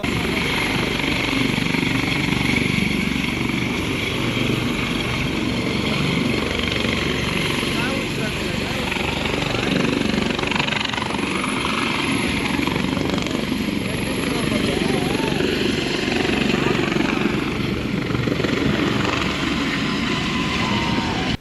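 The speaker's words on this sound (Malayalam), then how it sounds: "അമിത്ഷാ ഹെലികോപ്റ്റർ പറന്നുയരുന്നതും ഒരു വശത്തേക്ക് ആടിയുലഞ്ഞു മാറുന്നതും നിലത്തേക്ക് തൊടും എന്ന മട്ടിലെത്തുന്നതും തുടർന്ന് പറന്നുയരുന്നതും ദൃശ്യങ്ങളിൽ വ്യക്തം" A helicopter carrying a government minister takes off and sways, its loud, continuous rotor and engine roar holding steady throughout without breaking.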